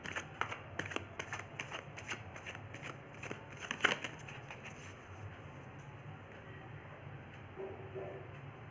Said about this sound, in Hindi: आपके कार्ड एक्वेरियस बहुत ही स्मूथली शफल हो रहे हैं